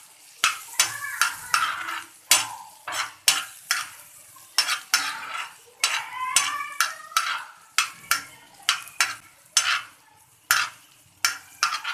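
Pav bhaji masala, about half a spoonful, stirred with green coriander in a pan as it roasts, with a soft background sizzle under repeated, rhythmic scrapes and clinks of a spoon, close and clear.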